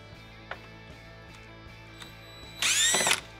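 A power drill whirs briefly while backing screws out of a steel gun safe lock, one short burst near the end after a quiet stretch with a steady background hum.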